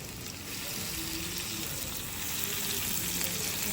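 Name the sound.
garlic paste frying with mustard and cumin seeds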